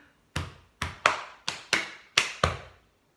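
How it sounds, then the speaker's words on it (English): Seven crisp, close hand taps of body percussion played in a steady rhythm during a primary school music lesson, the sequence finishing with a tap on the chest, with no voices over them. "the very, very final bit is just another tap on our chest at the end"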